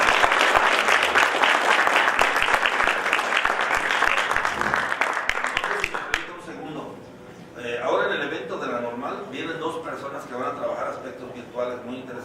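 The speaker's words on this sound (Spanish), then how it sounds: "pida un fuerte aplauso de todos" Loud, sustained applause from a large audience at an educational forum on virtual education, dense clapping for about six seconds, then fading into murmuring voices and talk.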